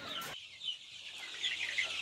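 Fayoumi chickens cluck and chatter softly at a chicken farm, a brief sharp burst at the start followed by scattered higher calls, fairly faint.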